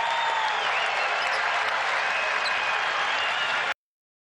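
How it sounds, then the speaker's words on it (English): Arena crowd at the MCI Center applauds Michael Jordan and Jerry Stackhouse during an NBA Grizzlies–Wizards game, a broad steady roar of clapping that cuts off abruptly near the end. "For Jerry Stackhouse and Michael Jordan, who both get a nice round of applause here."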